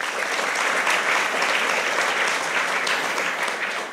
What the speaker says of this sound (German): Und ein letzter Applaus für Thalia live, die das hier alles organisiert haben und veranstalten.